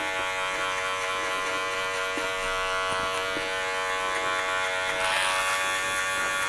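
Electric hair clippers buzz steadily and close up while cutting a high skin fade, a continuous hum that lifts slightly in pitch near the end, with no talking.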